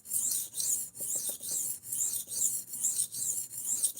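A knife blade is drawn by hand across a sharpening stone in regular rasping strokes, about two per second, close and distinct with no voices.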